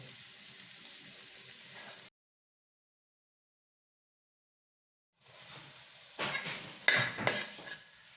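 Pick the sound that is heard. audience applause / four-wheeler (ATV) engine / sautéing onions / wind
sautéing onions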